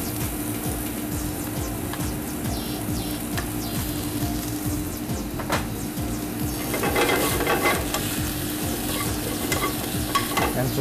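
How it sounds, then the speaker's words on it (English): Snow crab meat sautéing in a pan makes a close, continuous sizzle with brisk scraping from stirring, growing slightly busier and louder partway through. "I have some snow crab meat, which I'm gonna add to the saute."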